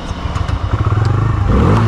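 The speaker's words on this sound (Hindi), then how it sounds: "पेट्रोल में बाइक स्टार्ट हो चुका है" A Bajaj Freedom 125 motorcycle engine cranks and catches on petrol, settling into a steady close-up idle with a rapid thumping rhythm.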